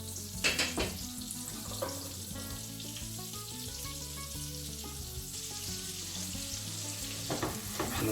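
Onions frying in olive oil for a mixed vegetable curry, a steady close sizzle with a few louder crackles and scrapes near the start and end, no voices.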